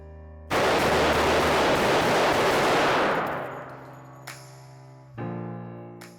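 Pistol gunfire comparing a 9mm Springfield SA-35 with a .45 1911: a loud rapid string of shots blurs into one sustained roar, then fades, with a few later reports and echoes at an outdoor range.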